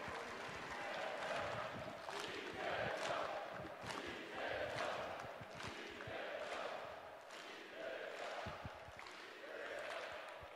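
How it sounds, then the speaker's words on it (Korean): A crowd at a Korean presidential campaign launch event for candidate Lee Jae-myung chants in a rhythmic, repeated cadence, with the chant rising and falling every second or two amid cheering. The sound is faint and distant. "다시 한번 뜨거운 박수와 함께 이재명을 연호해 주시길 부탁드리겠습니다"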